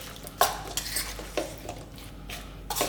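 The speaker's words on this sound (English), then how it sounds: "Just keep mixing away." A utensil scrapes and clinks in a bowl as zucchini pakora batter of rice flour and water is mixed, the faint irregular taps and knocks heard up close.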